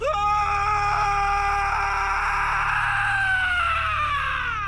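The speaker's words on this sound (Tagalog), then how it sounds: "Bigla naming narinig ang sigaw ng isang lalaki." A man screams in one long, loud, strained cry that wavers and slowly falls in pitch, heard up close and alone.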